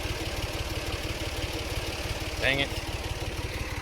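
A two-wheel-drive tractor engine stuck in a mud hole, idling steadily with a low, even throb throughout, close up, while a man briefly mutters over it.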